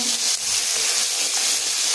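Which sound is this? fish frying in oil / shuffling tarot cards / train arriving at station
fish frying in oil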